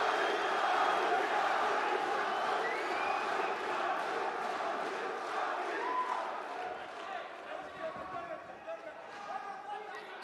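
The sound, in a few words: crowd cheering at MMA fight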